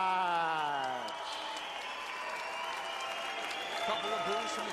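Crowd at an Instinct MMA fight reacting just after a 15-second knockout, with a broad wash of applause and crowd noise that holds steady. A voice talks briefly at the very start.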